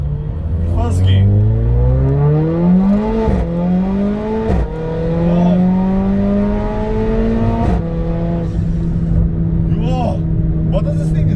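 A Mercedes A45 AMG engine revs hard up close and loud, its pitch climbing steadily and dropping sharply twice, as if shifting gears, under a constant rumble.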